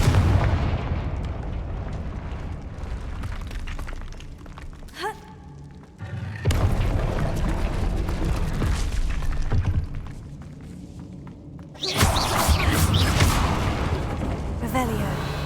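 Confringo blasting spell in Hogwarts Legacy, heavy booming explosions rumbling over dense game sound, with a brief lull midway before another loud blast sequence.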